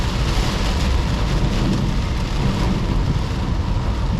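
Heavy rainstorm pounding on a BMW E46 320i from inside the cabin, a loud, dense, steady roar of rain with a deep rumbling undertone throughout.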